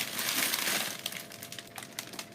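Plastic bag crinkling as a candy bouquet is worked into it, a dense rustle at first that thins into intermittent crackles and crumples, close by with no talking.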